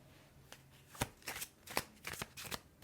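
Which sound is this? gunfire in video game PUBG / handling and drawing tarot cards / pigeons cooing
handling and drawing tarot cards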